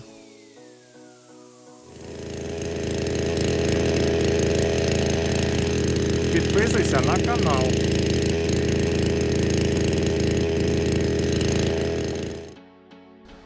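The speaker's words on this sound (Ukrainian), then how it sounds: "Бензопилою зрізав це дерево." A chainsaw roars steadily at full throttle for about ten seconds, loud and close, cutting down a tree in a yard, winding down at the end, with a brief spoken line over it.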